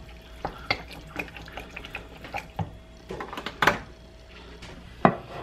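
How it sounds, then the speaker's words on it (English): Green bean casserole with big mushrooms pours and scrapes into a casserole dish, giving soft wet plops and utensil clinks in uneven bursts, with two sharper knocks near the end, close and fairly quiet. "you're just gonna pour this right into a casserole dish"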